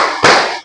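Students clap together in an Indonesian 'tepuk semangat' spirit clap during a school economics class. Clapping is already going, then a single loud, sharp burst of many hands hits and its crackle tails off quickly.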